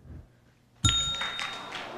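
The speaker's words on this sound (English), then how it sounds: "We hear the bell" A single bell ding marks a misspelled word at a spelling bee, striking sharply after a quiet moment and ringing on with a bright, sustained tone that slowly fades.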